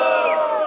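A crowd at a hip hop rap battle in Piracicaba cheers loudly for a rapper, with a dense, sustained roar of voices and whoops that fills the space and carries on without a break.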